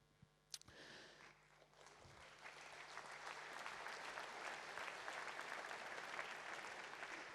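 Applause from an audience at a mayor's New Year address in Vichy starts after a brief sharp knock and swells into steady, sustained clapping from many hands.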